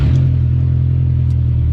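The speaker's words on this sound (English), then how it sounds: "this car is obnoxiously loud" A VW Golf 3 with a 1.8T engine revs through a loud, gap-leaking exhaust, a close, deep rumbling drone held steady throughout with no talking.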